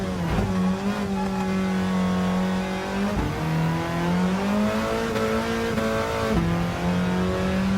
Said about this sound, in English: I mean, for a 1600, it sounds like a mini V8. Oh wow, what an exhaust note.